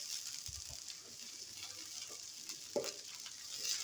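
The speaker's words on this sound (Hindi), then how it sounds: "इसे अच्छे से ब्राउन होने तक लहसुन अदरक को हम फ्राई कर लेंगे" Garlic and ginger paste frying in a pan, a steady soft sizzle and crackle running throughout with a few brief stirring clatters and small pops.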